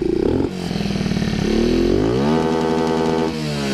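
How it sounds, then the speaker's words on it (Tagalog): Raider J115 Fi motorcycle with 57mm bore and stock exhaust pipe, engine not yet tuned: a loud, close engine idling and revving up and down in steady swells, with a rough throaty tone and slight sputter, no talk. "So ito yung munang stock pipe."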